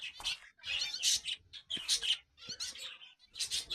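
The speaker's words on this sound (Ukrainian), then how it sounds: "пташиний спів" Birds chirp and twitter busily in a botanical garden, a run of rapid high calls and squeaks close by, with short gaps between phrases.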